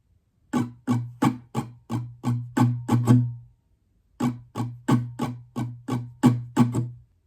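A song played on acoustic guitar with a strumming pattern of crisp, evenly spaced down-and-up strokes in two phrases split by a brief gap, up close and alone.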